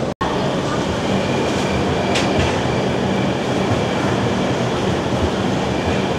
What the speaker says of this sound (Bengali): ট্রেন কলকাতা স্টেশন থেকে কিন্তু আমাদের ছেড়ে দিয়েছে মথুরার উদ্দেশ্যে